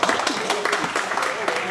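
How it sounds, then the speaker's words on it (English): Audience applause at a white-collar boxing fight night after a round ends, a steady patter of clapping with voices talking over it throughout. "Round of applause"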